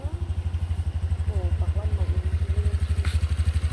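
A motorcycle engine idles with a loud, rhythmic low thumping throughout, while people talk briefly over it.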